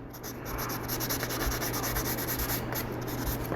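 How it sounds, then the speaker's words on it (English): Quick, rhythmic scrubbing strokes of a sanding sponge rubbing over a small plastic model part, close up and steady for a few seconds. "I just give it a real quick once over with the sponge"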